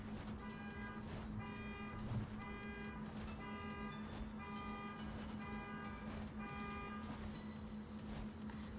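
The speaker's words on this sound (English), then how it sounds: "car alarm's over" A car alarm blares nearby in a steady, repeating electronic pattern of pulsed tones, continuous and loud throughout with no talking.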